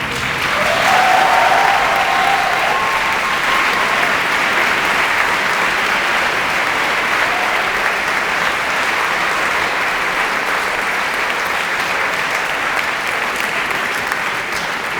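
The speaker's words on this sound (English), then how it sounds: "give them a round of applause" Sustained applause from the audience fills a debate hall at a world universities debating championship final, a steady dense clapping that runs the whole stretch with faint crowd murmur beneath.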